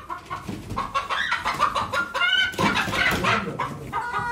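A rooster at a poultry auction clucks and squawks loudly and close, in repeated agitated bursts with a strained crowing tone, nearly continuous and heard alone.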